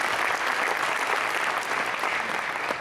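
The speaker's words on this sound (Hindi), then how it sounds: "एक बार जोरदार तालियां।" A kavi sammelan poetry gathering audience gives loud, sustained applause, a thick even wash of clapping from a large crowd that holds steady throughout.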